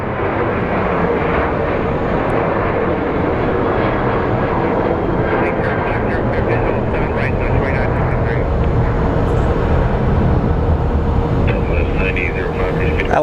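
An airplane's engines roar steadily at Phoenix Sky Harbor International Airport, a broad loud drone that stays constant throughout as the plane flies away, with people talking faintly underneath.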